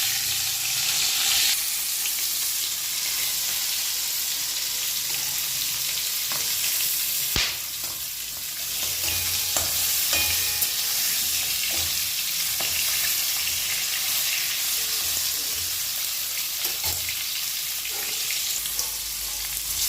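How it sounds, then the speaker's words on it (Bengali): Prawns sizzle steadily as they fry in hot oil, with occasional scrapes and clacks as the pieces are turned over in the pan; a continuous, fairly loud crackle with no voices. "চিংড়ি মাছগুলো আমি হালকা করে ভেজে নিচ্ছি এগুলো উল্টে দিচ্ছি"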